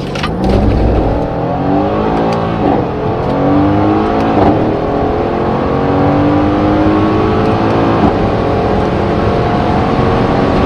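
A white 2016 Mercedes C63 S AMG accelerates hard in manual mode, its engine note climbing through the gears with repeated rising sweeps and brief dips at each upshift, loud and close from inside the car.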